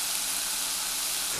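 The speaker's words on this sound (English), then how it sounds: "While your patties are sizzling away" Burger patties frying in a preheated pan on a stovetop burner, giving a steady, dense sizzle and crackle that stays even and fairly loud throughout.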